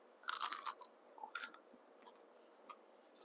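Crisp crunching bites into fried lumpia shanghai made with a Menlo wrapper, a loud close crunch burst followed by a second bite and a few softer chewing crackles in near silence.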